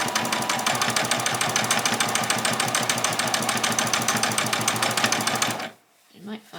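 A sewing machine runs steadily along the edge of fabric, stitching ruffles for a spring outfit without back-stitching, a dense rapid mechanical whir that holds loud and even for several seconds before stopping abruptly.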